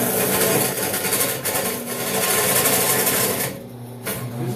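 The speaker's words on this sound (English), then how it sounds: "here is a cut on 1-inch steel on my bandsaw" A bandsaw slowly cuts through 1-inch steel, giving a continuous loud rasping, grinding noise close by, with a brief lull partway through and a dip near the end.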